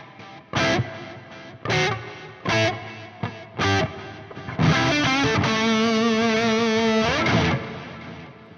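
Electric guitar plays several short struck chords, then a sustained ringing chord, each tail washed in reverb and repeating delay echoes.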